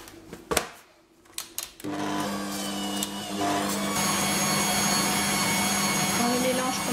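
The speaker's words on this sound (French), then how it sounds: "Et je commence à fouetter." An electric whisk beats a fraisier cake mixture with sugar. A few clattering knocks come first, then a steady, loud mechanical whirr with a droning hum holds on without a break.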